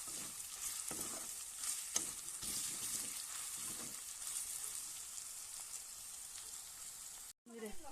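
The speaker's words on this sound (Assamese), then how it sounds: "এবাৰ আকৌ ভালদৰে লৰাই দিছোঁ।" Cumin and turmeric powder sizzle steadily in a frying pan for an Assamese taro greens dish, a continuous hissing fry with soft stirring scrapes and a brief break near the end.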